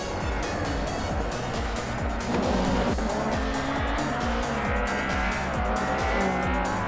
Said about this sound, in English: Chris Gopher is driving a 2007 BMW 320 SI.